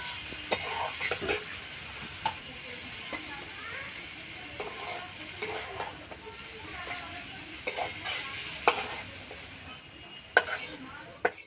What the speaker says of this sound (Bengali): শাক দিয়ে তেলও ছেড়ে দিয়েছে, সুন্দর ভাজা হয়ে গেছে।